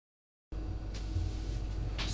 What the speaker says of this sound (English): the fan pump is quite a noticeable noise,